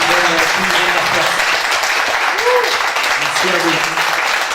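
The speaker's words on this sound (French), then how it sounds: "j'aimerais que vous applaudissiez s'il vous plaît le public qui nous donne la force" A live show crowd applauds loudly and steadily while voices call out and talk over the clapping.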